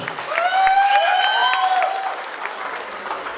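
An audience at a wedding celebration bursts into sustained applause, dense and close, with a high whooping voice rising over the clapping before it thins out toward the end.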